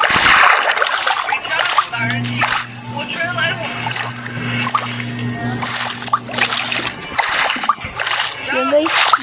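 Splashing and sloshing of water as people bathe in a river, with bursts of splatter recurring throughout, mixed under voices talking and a low steady hum.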